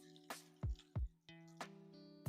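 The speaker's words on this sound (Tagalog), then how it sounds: "Busin po natin itong tubig" Water is poured onto an ITEL S25 Ultra phone, giving a few faint, separate drips and splashes with quiet pauses between them, recorded up close.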